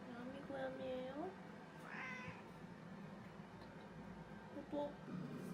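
A house cat meows several times, short rising and falling calls with one more drawn-out meow, while someone talks over a light room background.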